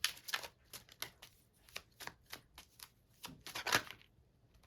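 Tarot cards being shuffled, a run of crisp riffling snaps and soft slaps in irregular bursts, close and fairly loud with no talking.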